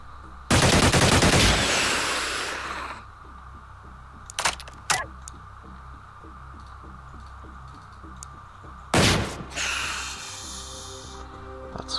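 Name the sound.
gunfire from a video game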